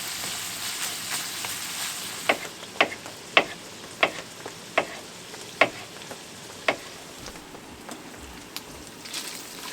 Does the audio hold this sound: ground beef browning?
yes